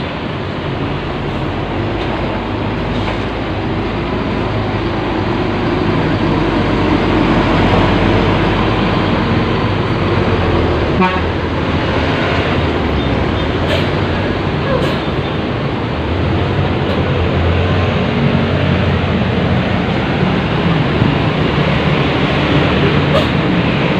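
Several buses roll into a crowded bus terminal, a steady heavy engine rumble and traffic wash filling the whole stretch, loud and close, with faint voices in the background.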